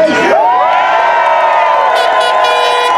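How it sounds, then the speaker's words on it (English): A large rally crowd erupts in loud, sustained cheering and whooping, a dense wall of voices with high shouts that holds steady and swells slightly near the end. "I could not have wanted or expected a bigger or larger crowd."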